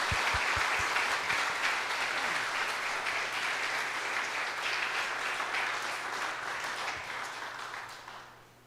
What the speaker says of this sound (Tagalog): pasalubungan tala pong masikan a palakpak.